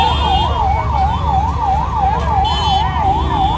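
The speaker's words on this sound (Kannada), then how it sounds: "ಎಂಟ್ರಿ ಆಗಿದ ತಕ್ಷಣ ನೋಡ್ತೀವಿ ಒಂದು ಆಂಬುಲೆನ್ಸ್ ಇತ್ತು" An ambulance siren wails loud and close in a rapid, steady up-and-down cycle, sounding alone amid traffic at a crowded Maha Shivaratri celebration entrance at Isha Foundation.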